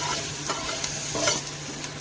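Chopped onions and a small tomato fry in a pan for chicken fried rice, a steady close sizzle broken by a few stirring scrapes, with no voices.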